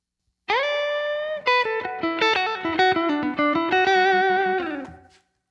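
An electric guitar run through distortion and effects plays a blues lick, opening on a sustained bent note, then a run of quick single notes and slides, loud and close, ending in a fading tail.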